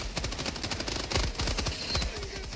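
Rapid automatic fire from a weapon in the video game Helldivers 2 rattles on in a steady, loud burst of closely spaced shots that runs through the whole stretch.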